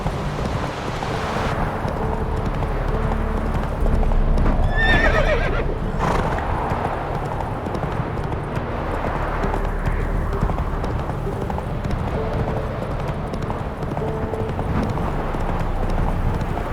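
Horse galloping in The Witcher 3: Wild Hunt, a steady rapid drum of hooves under wind and ambient game sound, with a brief whinny partway through, close and continuous.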